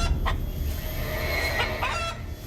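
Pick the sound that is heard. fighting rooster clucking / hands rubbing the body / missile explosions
fighting rooster clucking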